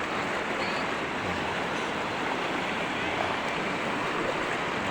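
A river flows in a dense, continuous rushing wash of water, loud and steady with a faint breeze, no voices present.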